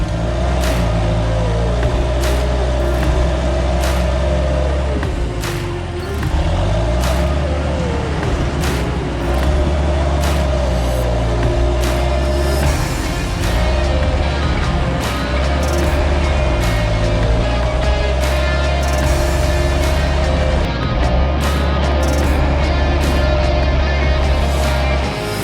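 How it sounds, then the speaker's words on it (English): A tractor bush hogging a campground field runs a rotary mower in a loud, continuous engine drone with a steady low rumble, a few brief clicks and rattles scattered over it, with a voice briefly audible beneath. "Billy T up there bush hogging."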